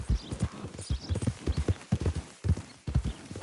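Horse hooves clip-clopping in a steady trotting rhythm during riding in the Red Dead Redemption 2 video game on PS4, close and continuous, with no talk over it.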